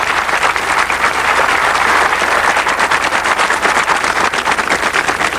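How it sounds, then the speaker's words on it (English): Loud, vigorous studio audience applause on a 1991 celebrity game show, a thick continuous wash of clapping with a faint low hum beneath. "a round of applause for Miss Sanderson."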